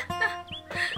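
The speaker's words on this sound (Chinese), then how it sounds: "你去哪里弄了一个小鸭子？" A duckling gives a few quick, high peeping calls close by, in short bursts within a second.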